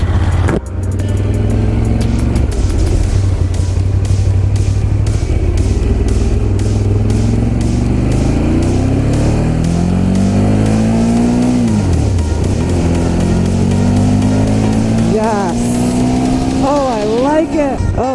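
A Ducati Monster 1200 S motorcycle ridden with a quick shifter: a steady loud engine drone rises and falls through gear changes without pause, with wind noise and a voice speaking over it.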